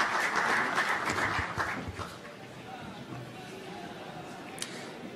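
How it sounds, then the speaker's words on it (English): Applause from a conference audience at a tech forum in Buenos Aires swells loudly at first, then fades into a steady softer clapping and crowd murmur. "Please, a big round of applause."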